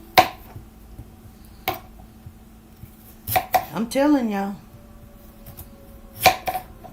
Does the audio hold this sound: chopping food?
yes